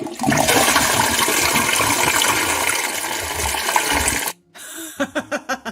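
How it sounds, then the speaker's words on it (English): A toilet flushes with a loud sustained gush of rushing water lasting about four seconds, then cuts off abruptly, followed by a few short gurgling bursts as the tank refills. "Toilet flush."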